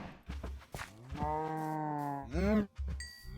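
Minecraft cows give two drawn-out, moaning moos in close succession. The first is long and steady and the second rises in pitch. Soft clicks and thumps from the game sit around them.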